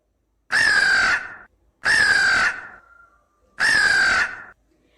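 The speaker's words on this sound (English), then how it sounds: "The sound of the crow is" A crow caws loudly and close, three harsh, drawn-out calls evenly spaced with short silences between them.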